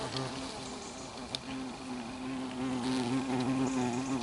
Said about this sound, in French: Vous l'entendez, le frelon asiatique qui me suit.